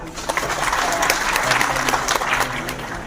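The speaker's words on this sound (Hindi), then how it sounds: "तो उसके लिए तालियां बजा दीजिए आप लोग" Audience applause at a journalists' gathering in front of Raj Bhavan in Lucknow, a dense burst of steady clapping from a crowd held for a few seconds.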